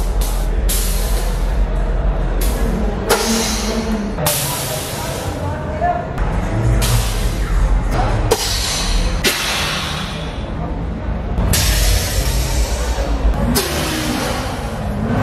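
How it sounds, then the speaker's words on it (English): Car air suspension releasing repeated sharp bursts of hissing air at close range, over a background rumble of engine and street noise. "here's some satisfying air suspension sounds"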